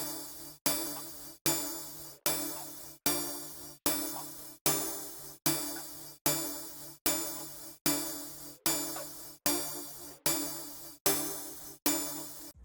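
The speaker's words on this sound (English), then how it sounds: "It's the Harmonix 8 pluck." Serum synth Harmonix 8 pluck preset playing a steady, evenly spaced pattern of bright plucks, about sixteen notes each sharply struck then decaying, with a low tone sitting underneath.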